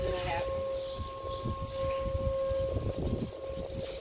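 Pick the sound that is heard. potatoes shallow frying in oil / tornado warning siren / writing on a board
tornado warning siren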